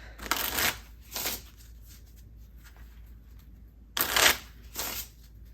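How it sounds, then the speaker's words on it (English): Cards being riffle-shuffled in several quick bursts, close and fairly loud, with short pauses between shuffles and no talking. "Let's shuffle."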